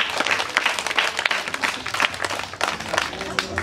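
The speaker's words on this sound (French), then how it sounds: "applaudissez pour vous-même" A crowd at a foundation's celebration event applauds themselves, with uneven, lively clapping that swells and dips and scattered voices mixed in.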